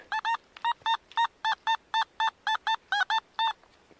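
A metal detector sweeping ground at a 19th-century shooting range during autumn digging gives a clear, regular string of tonal beeps, mostly in quick pairs, close and alone over faint background.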